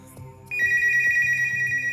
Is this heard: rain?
no